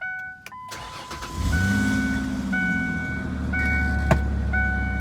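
A Ford Sport Trac cranks over and fires up on a cold start, settling into a smooth, steady idle close by with faint chimes and clicks in the background.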